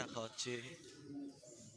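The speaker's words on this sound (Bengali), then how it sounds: "এই জায়গাটাতে কত পায়রা সকলে এখানে পায়রা খাওয়াচ্ছে চাল ধান গম" Pigeons crowd a feeding spot at Pashupatinath Temple in Kathmandu, where people scatter rice, paddy and wheat. A faint, brief coo is heard beneath close conversation.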